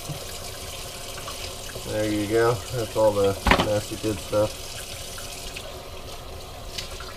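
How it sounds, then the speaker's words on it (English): Lukewarm tap water pours over a still partly frozen bag of chicken giblets in a kitchen sink, a steady rushing stream under someone talking briefly in the middle. "lukewarm water will help release it"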